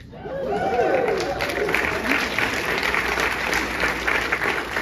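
Award ceremony audience applauding as Michael Showalter receives a Rebel Award at a film festival, sustained full applause with background chatter, while a voice speaks briefly at the start.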